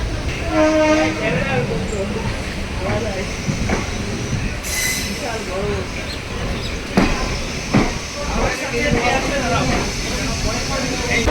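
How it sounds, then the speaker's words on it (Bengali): A passenger train pulls out of Kolkata station and rolls steadily, with continuous rumbling, wheel clatter, brief squeals and a short horn blast, while voices talk nearby over the noise. "ফাঁকায় ফাঁকায় ট্রেন জার্নি শুরু করছি কলকাতা স্টেশন থেকে"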